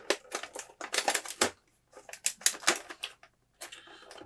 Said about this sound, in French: Que le cellophane qui fait du bruit dans ces boîtes-là.